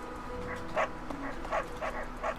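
Puppy in the video game Fire Emblem: Three Houses barking four times in short evenly spaced yaps over a soft steady game backdrop, clear and mid-distance.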